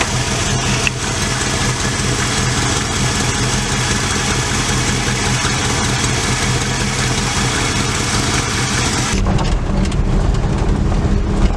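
A tuned 1970 Ford F100 pickup truck engine idling nearby, a loud, steady low rumble that holds evenly, with a brief shift in tone near the end.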